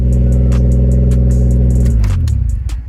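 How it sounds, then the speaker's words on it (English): A loud aftermarket car exhaust on a 1JZ-swapped Lexus IS300 rumbles at a deep, steady idle-rev, then the engine note drops and sputters down as it shuts off. "Turn that off because stupid exhaust is pretty loud."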